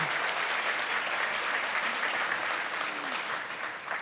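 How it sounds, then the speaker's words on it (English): Audience at an award ceremony applauding, a continuous thick wash of clapping from a crowd, steady and fairly loud throughout before easing slightly at the close. "Another round of applause for Benita, everybody."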